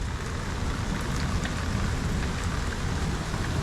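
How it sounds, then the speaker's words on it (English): Heavy rain pours steadily on a farm homestead with an RV and tiny house, a dense close hiss of drops on surfaces with no distinct thunder standing out. "all of a sudden it started thundering, and within 5 minutes just come a downpouring again"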